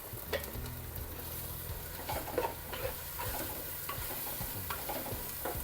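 Ground coriander, mint, ginger, garlic and tomato paste sizzles steadily in a hot pan for a fish biryani, with scattered stirring scrapes and clicks, fairly close and with no voices.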